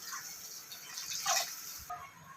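Water poured into a pan of soya gravy, a soft, quiet splashing pour lasting a couple of seconds with no talk.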